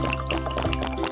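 Water is poured or gulped in a continuous liquid rush for about a second, close and fairly loud, with no talking.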